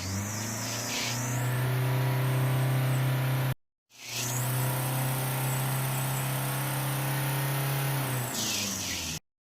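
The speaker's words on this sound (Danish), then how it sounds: "Træder vi på pedalen og ser hvad den udleder" A car engine revs hard as the accelerator is pressed during an exhaust emissions test. It holds a loud, steady high-revving drone, cuts off briefly, then revs again for several seconds before dropping away.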